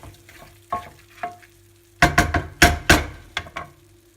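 Fries being stirred into a bacalhau mixture in a pan, soft scraping strokes at first, then a burst of louder, rapid stirring and clattering near the close, with no talk.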